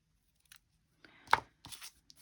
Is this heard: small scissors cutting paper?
yes